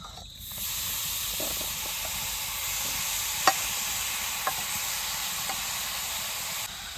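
Grated coconut being stirred into jaggery in a wok for coconut naru, a steady soft hiss and scrape with a few sharp clinks of the spoon against the pan, close by and with no talk.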